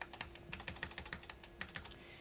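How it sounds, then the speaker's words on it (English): Arrow keys tapped repeatedly on a 1985-era computer keyboard, a fast, even series of sharp clicks, close and crisp with a faint steady hum underneath. "we can use the arrow keys to adjust this"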